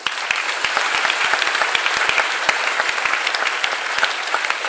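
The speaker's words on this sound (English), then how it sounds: "Clap your hands." A crowd at a church convention claps hands steadily, a dense, even patter of many hands with sharper individual claps standing out, loud and continuous throughout.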